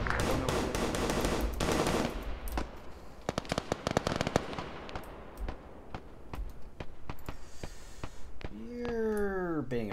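A heavy machine gun in an Arma battle fires dense bursts of rapid rounds, first a continuous roar and then scattered sharp cracks and single shots, with a voice speaking over the gunfire.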